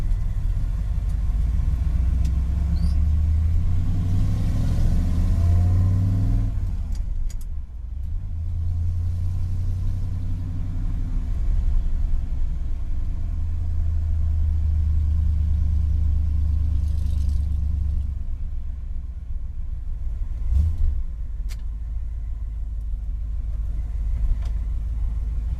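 A 1968 Ford F250 engine running after a cold start, a deep steady rumble close by with revs rising and falling, a brief dip around the middle and a sharp knock near the end.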